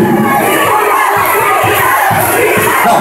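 A lively crowd at a stage show cheers and shouts together, loud and near, with children's voices among the din. The noise rises and dips in bursts, sustained for the whole stretch.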